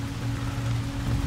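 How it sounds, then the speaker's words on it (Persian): Steady rain falls outdoors in Andimeshk during a walk, a dense even hiss with a low rumble beneath it, no voices present. "همین الان داره اینجا بارون میاد."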